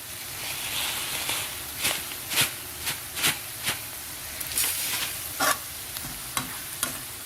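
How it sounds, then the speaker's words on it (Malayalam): Fenugreek seeds being stirred into frying garlic pickle, a spoon scraping the pan in repeated sharp strokes over a steady oily sizzle, fairly close and with no voices. "എന്നിട്ട് നന്നായി ഒന്ന് ഇളക്കുക."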